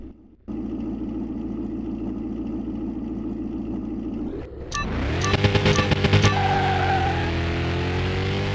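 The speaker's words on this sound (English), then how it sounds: "Hear that turbo? That Eclipse has got a turbo." The engine of a Mitsubishi Eclipse with a turbo in Car Mechanic Simulator 2021 drones steadily at idle, then revs up into a louder, rising whine with rapid pulsing bursts, close and alone.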